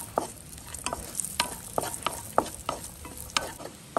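Ghee sizzles in a pan with cashews and raisins as a spoon scrapes and stirs, giving a steady crackling hiss broken by regular clinks and scrapes, close and moderately quiet.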